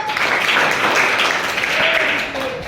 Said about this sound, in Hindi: वेरी गुड, इसके लिए ताली बजाओ।